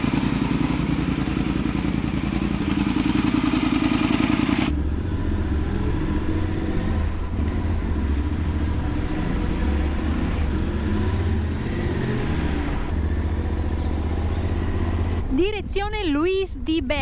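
A motorcycle engine runs with a steady, rumbling idle that shifts in tone partway through, loud and close, with brief voices near the end.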